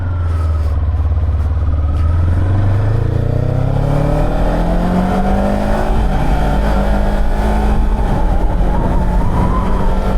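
A Kawasaki Z7 hybrid motorcycle accelerates hard up close, its engine note climbing steadily in pitch through successive gear changes, loud and continuous with no talking.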